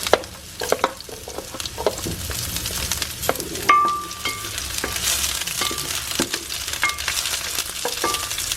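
Garlic and onion frying in a hot, lightly smoking pan for Java curry, with a steady sizzle broken by stirring scrapes and clinks of a utensil, close and fairly even in loudness.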